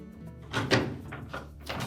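Inner and outer halves of a Maytag washer door pressed together during a handle spring repair: a few soft plastic thunks and clicks, close and fairly quiet, with one firmer knock in the middle.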